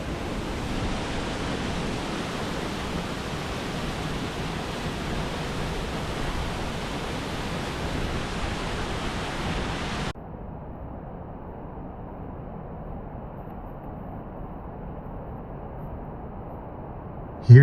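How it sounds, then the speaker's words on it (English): Dog Creek Falls in the Columbia River Gorge, heard from the top, gives a steady, dense rushing roar with no voices. It holds at full strength for about ten seconds, then drops to a softer, duller wash. "This is the waterfall I was just under, and now we get a view from the top, and it's equally stunning."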